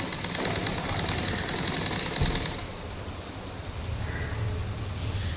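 A sewing machine runs steadily up close while stitching lining around a neckline, its rapid needle clatter continuous before easing slightly toward the end, with no talking.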